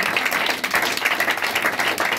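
A church congregation applauding together, steady dense clapping at a fairly loud level, with no pauses across the short stretch.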